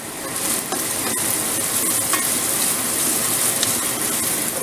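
Ground pork sautéing in a pan for ginisang sayote, a steady close sizzle and frying hiss that carries on throughout with occasional stirring scrapes and no talking.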